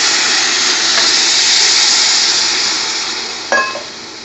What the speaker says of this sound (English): now we're going to tip the uh, the vinegar in